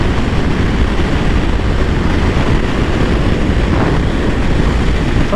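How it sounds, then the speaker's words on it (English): Steady, loud wind roar buffets a motorcycle helmet while riding through Dallas, Texas, a dense broadband rush that stays constant throughout with no pauses or voices. "There's a lot of wind coming through the helmet."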